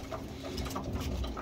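Pigeons in a breeding loft, some of them moulting late-hatched birds, give low soft coos over a steady murmur of birds close by, with no talk.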